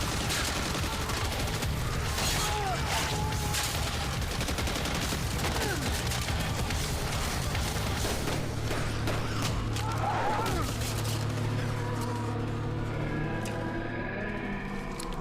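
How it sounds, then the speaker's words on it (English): Sustained gunfire in the 2005 shooter Area 51: rapid, crackling automatic bursts and overlapping shots run continuously for the whole stretch, loud and busy, thinning into a lower rumble near the end. "Try shooting."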